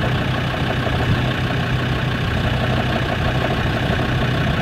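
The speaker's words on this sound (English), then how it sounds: "Yeah, something's grinding, but it's been better now that I put new oil in it, so it's not as violent" A Land Rover Discovery idles with a steady engine rumble, a faint metallic grinding from something loose inside running underneath, loud and continuous with no talking.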